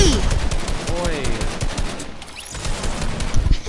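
Video game gunfire in a Fortnite 1v1 tournament, rapid bursts and single shots close by, mixed with building and weapon effects throughout the few seconds.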